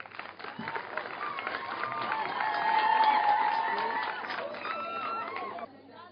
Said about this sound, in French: Applaudissez pour les 2 proviseurs.